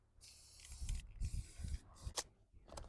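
A spray paint can hisses out paint in short bursts while a vintage 1960 Apache Scout camper is restored outdoors; the sprays are close and moderately loud, separated by brief pauses, with some light handling thumps.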